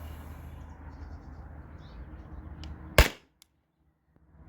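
A Grimburg paintball marker loaded with 7.2 gram Alien Play paintballs fires a single sharp, loud pop after a few seconds of steady air hiss, followed by quiet.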